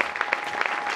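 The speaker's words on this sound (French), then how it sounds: "J'aimerais que vous puissiez l'applaudir déjà." An audience at a gospel event claps for a pastor, a short patter of scattered applause lasting about a second.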